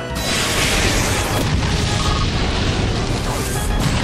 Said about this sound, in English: Annihilated by explosion!